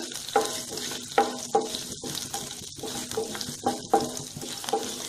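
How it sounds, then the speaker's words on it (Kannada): Curry leaves and spices for tomato rasam tempering sizzle in hot oil, a close, steady crackle broken by a series of rhythmic stirring scrapes, with no voices. "ಒಗ್ಗರಣೆ ಕೊನೆಯಲ್ಲಿ ಬೇಕಾದರೂ ಹಾಕೋಬೋದು ಫಸ್ಟೇ ಬೇಕಾದರೂ ಹಾಕೋಬೋದು ನಾನು ಫಸ್ಟೇ ಹಾಕ್ತಾ ಇದ್ದೀನಿ"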